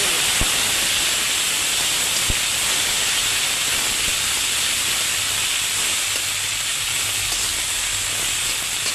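Ground dried fish paste and garlic paste fry in hot oil, producing a steady, close, loud hiss with a few sharp ticks and pops.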